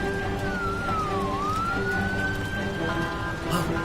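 A wailing fire engine siren rises and falls at a moderate distance over a low, steady rumble of traffic.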